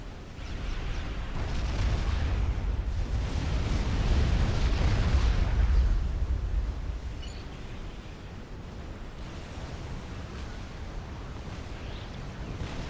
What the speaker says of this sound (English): As it fires all of its cannons.